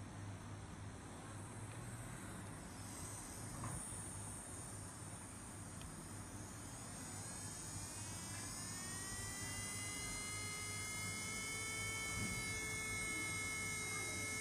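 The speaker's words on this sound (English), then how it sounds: "now the machine is starting up." A Belle rechargeable 35,000 RPM nail drill runs steadily on its own, a continuous high whine that climbs in pitch as the speed is turned up, with no voices over it.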